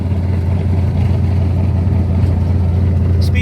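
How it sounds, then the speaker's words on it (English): A 1968 Camaro hotrod with an LS engine rumbles steadily as it drives, a loud, deep, continuous engine drone close up with no speech. "It's your boy's first time driving a 68 Camaro."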